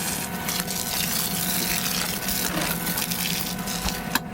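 Hot water runs steadily from a newly installed Truma water heater in a 2023 Alliance Avenue RV, a continuous hissing gush with a faint mechanical hum beneath, close by and without talk.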